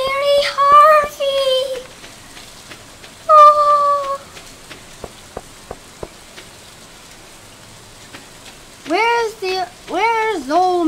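Steady soft rain falls on a spring day in the Stardew Valley farming game, a faint continuous patter beneath brief melodic game chimes and tones.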